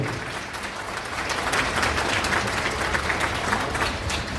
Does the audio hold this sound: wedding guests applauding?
yes